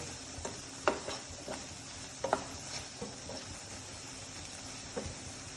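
Spices with black salt and chaat masala are stirred together, a low sizzling bed with a steady series of scraping taps from a spoon against the pan, fairly quiet and without talk.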